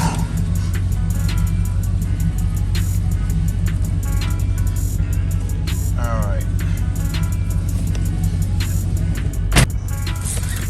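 A 1992 Chevrolet Camaro Z28's engine idles in a steady, low rumble throughout, with a brief spoken remark and occasional small clicks and rattles on top.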